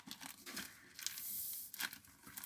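Gift wrapping from an advent calendar tears open in several quick crinkly rips and crumples, close and fairly quiet, with no talking.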